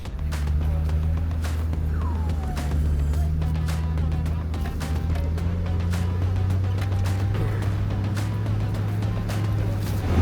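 A four-wheel drive vehicle grinds along narrow mountain forest tracks, its engine holding a loud, steady low drone that shifts pitch slightly as it climbs, with rattles and bumps from the rough ground throughout.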